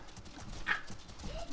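Horse hooves clip-clop in a short burst during a jousting run, a brief sharp knock standing out over a low, noisy outdoor background with no talk.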